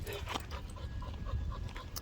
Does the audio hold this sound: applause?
no